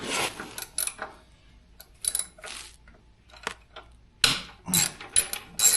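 Allen bolts are worked loose from a dirt bike's front fender, bursts of metallic clicking, ratcheting and clinking of tools and small hardware, close, separated by short quiet gaps.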